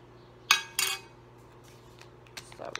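A plastic spoon picked up at home in a kitchen, two quick bright clinks of cutlery against dishes, then softer scattered clatter in a quiet room.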